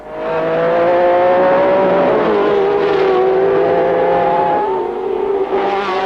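Several 1967 Formula 1 race cars at the German Grand Prix at the Nürburgring's Flugplatz roar past close together, loud sustained high-revving engines with shifting pitch as they sweep by, and no talk.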